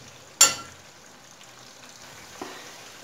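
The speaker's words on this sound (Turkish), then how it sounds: "Evet, bunları da biraz kızartıyoruz." Eggplant slices fry in hot oil for crispy floured eggplant, with a sharp sizzle burst at the start, a soft crackle that fades, then a second small pop later on.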